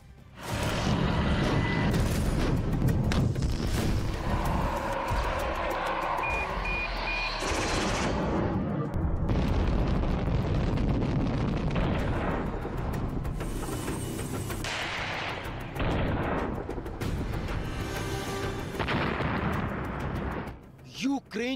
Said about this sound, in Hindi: यूक्रेन की जमीन पर रूस के मिसाइल कहर बनकर टूट रहे हैं।